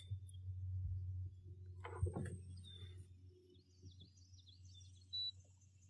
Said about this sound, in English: I think there's a crow pissed off at something.